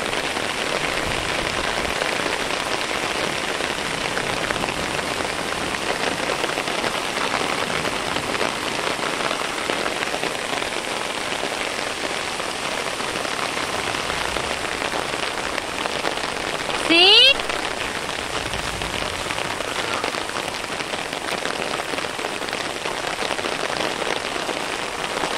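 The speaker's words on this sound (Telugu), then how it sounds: "అసలు ఎంత వర్షం పడిందంటే రోడ్ అయితే నీళ్ళమయం అయిపోయింది" A heavy evening downpour falls without letup for the whole stretch, a dense, loud hiss of rain on surfaces, broken only by one brief sharp sound partway through.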